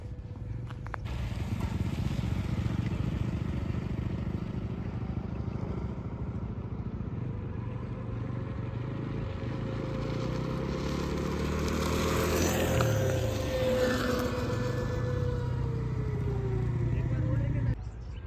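Ola S1 Air and S1 Pro electric scooters accelerating in a side-by-side race, a steady motor whine rising in pitch over continuous road and wind noise, with a person talking throughout.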